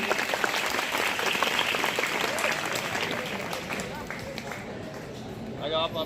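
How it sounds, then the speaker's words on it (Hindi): Audience applause at a school ceremony for Gandhi Jayanti in a farmers' intermediate college: a lively burst of clapping that gradually thins and fades, and a voice is heard near the end. "इनका जोरदार तालियों से अभिनंदन करिए।"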